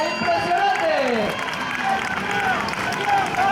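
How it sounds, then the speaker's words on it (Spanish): A crowd applauds and cheers female youth runners finishing a mile race in Gijón, steady clapping running under loud commentator speech throughout. "Fuerte aplauso y seguimos aplaudiendo a todas y cada una de las participantes"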